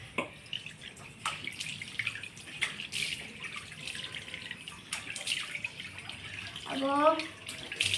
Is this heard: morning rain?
no